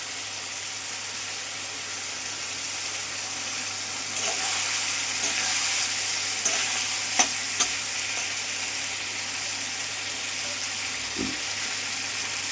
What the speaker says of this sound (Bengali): এবার আমি মাংসগুলো যে ধুয়ে রেখেছিলাম মাংসগুলো একটা করে আমি দিয়ে দেবো, দিয়ে এর সাথে আমি কষাতে থাকবো